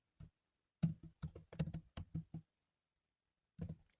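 Computer keyboard keys are pressed, shift and enter among them, in a quick cluster of sharp clicks followed by a pause and a few more taps, close and clear with no talking.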